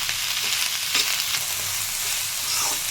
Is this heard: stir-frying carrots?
yes